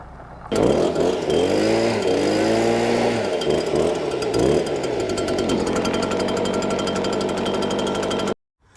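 A leaf blower roars steadily and loudly right up close, its engine pitch rising and falling a few times before holding a continuous drone, then cutting off abruptly near the end.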